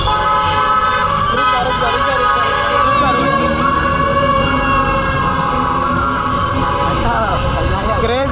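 Dense traffic noise at a Dahi Handi festival in Thane, with loud, overlapping vehicle horns honking continuously, a siren-like tone rising at times, and voices in the mix.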